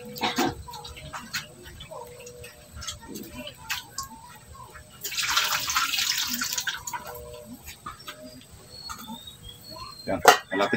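Tap water runs into a sink as fish is washed for a home-cooked soup, a steady splashing stream that swells louder for a couple of seconds midway, with clinks and light handling noises around it.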